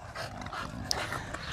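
American bully dog panting close by, quick rhythmic breathy puffs at moderate volume with no talk over them.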